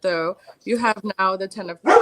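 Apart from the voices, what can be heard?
dog barking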